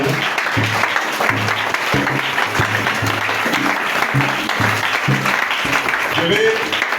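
A church congregation applauds and cheers the Lord together, with dense sustained clapping and mixed voices shouting and singing throughout, loud and close.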